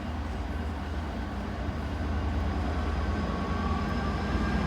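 A long train rumbles steadily past the High Street level crossing in Lincoln, a continuous loud low roar of wagons rolling by at close range with no break over the whole stretch.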